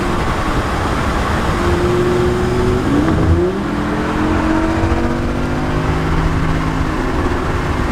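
A Lamborghini Huracan accelerates hard on the road, its loud engine note climbing steadily in pitch, dipping briefly at a shift, then pulling on under constant road and wind roar for several seconds.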